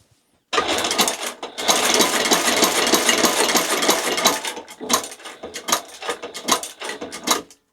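A cylinder-arm walking-foot sewing machine stitches boot material in one steady, dense run lasting several seconds, followed by a scatter of separate knocks and taps.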